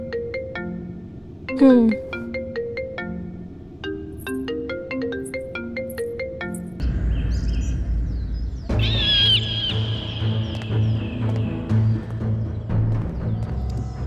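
A phone ringtone plays a bright, repeating electronic melody for several seconds, close and clear. Louder noise and high, wavering tones follow.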